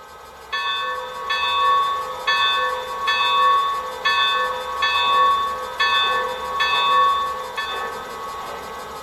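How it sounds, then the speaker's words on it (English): Bell on a Lionel C&O 2-6-6-2 Mallet model steam engine rings in a steady, even rhythm, about nine bright metallic clangs in a row, clear and alone. "Here's the bell"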